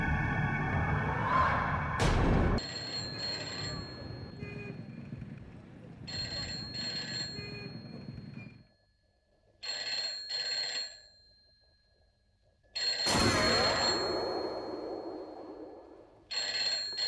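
An old-style telephone bell rings in bursts at a Katra police station, loud repeated trills separated by short silences, with some talk and background noise between rings.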